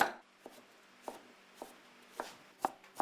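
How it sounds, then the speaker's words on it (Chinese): Pork belly chopped into mince with a cleaver on a board: several sharp, separate knocks at irregular intervals, close and clear, with no voices. "花肉剁成肉末"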